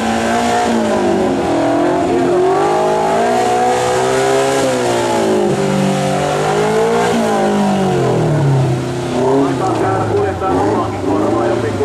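A Suzuki rally car with a 1.3-litre big-block engine races at a stadium trial event, its loud engine revving and rising and falling in pitch continuously, with a commentator talking over it.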